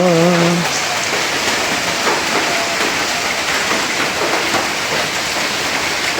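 Heavy rain falls steadily during a sudden flood at a house, a dense, continuous hiss of drops hitting surfaces nearby, loud and unbroken throughout, with a brief tonal sound at the very start and no talking.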